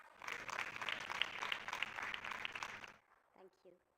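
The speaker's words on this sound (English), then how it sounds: "Let's welcome her with a round of applause." Audience applause at a formal Odisha investment MoU signing event, a dense crowd clapping steadily for about three seconds before fading out, followed by a brief voice.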